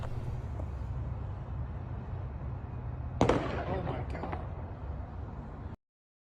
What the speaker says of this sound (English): You're going to hear a gunshot